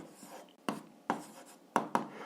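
A pen writes down an algebra answer on paper in a few quick, close strokes, four short scratchy bursts spaced irregularly across roughly two seconds, with quiet pauses between them and no voice.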